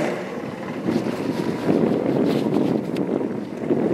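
A new 200-horsepower outboard motor runs on a fishing boat during a tournament, giving a steady, loud rumbling drone mixed with rushing wind and water noise.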